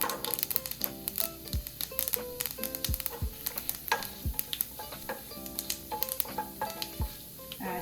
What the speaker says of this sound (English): This is a teaspoon of urad dal and chana dal. Fry this.